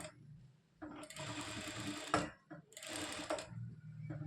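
A sewing machine stitches a round fabric tag in two quick bursts of steady, rapid mechanical chatter, with a short pause between them and a quiet background otherwise.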